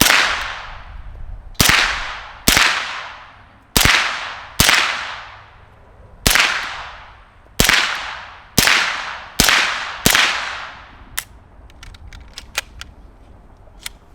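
A suppressed MP5-K fires supersonic 9mm ammunition, cheap Magtech/CBC 115-grain rounds, in a sharp sequence of about ten evenly spaced cracks. Each shot is loud and snappy with a brief decaying tail, and faint clicks follow the last shot.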